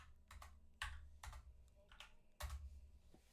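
Keystrokes on a computer keyboard come in irregular clusters of sharp clicks, fairly close and moderately loud, over a low steady hum during a Mario Kart 64 online league match, with no voices.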